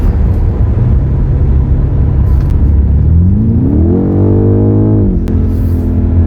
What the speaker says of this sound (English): you can really hear that exhaust when you open up the V8